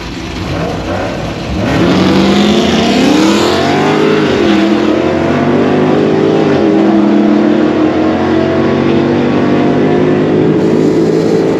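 Two drag race cars launch side by side in a 13.0 bracket class, a loud sustained engine roar rising in pitch as they pull away, with no talk over it.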